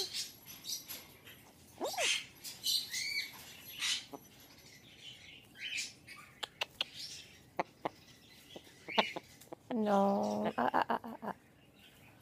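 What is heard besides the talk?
pet bird chirping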